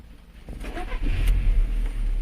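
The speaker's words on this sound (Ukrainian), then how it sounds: "заводимо автомобіль" Car engine being started during a driving-exam departure from a service centre, a short crank rising into a steady low idle rumble that holds to the end, close and alone.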